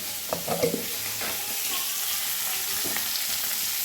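Koi fish fry in hot oil in a pan, a steady close crackling sizzle with a few soft utensil knocks and clinks near the start.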